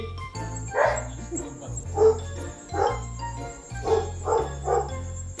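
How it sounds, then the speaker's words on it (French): Dog barks repeatedly at an irritating pace over a steady low background hum, with several distinct loud yaps spaced through the scene while a person speaks nearby. "Ah, ça m'énerve ce chien."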